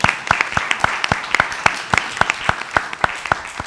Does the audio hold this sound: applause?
yes